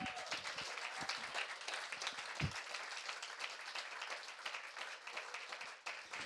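Steady applause from an audience at an award ceremony, continuous dense clapping sustained throughout at moderate distance with a few louder individual claps.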